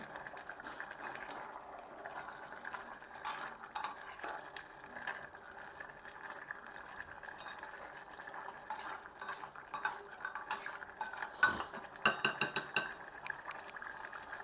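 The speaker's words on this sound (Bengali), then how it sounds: "এই যে মাংস দিয়ে বাঁধাকপি কষানো হচ্ছে" Cabbage and beef being stir-fried in a pot, a soft continuous sizzle and bubbling with intermittent scraping and clinking of a spoon against the pot, growing busier toward the end.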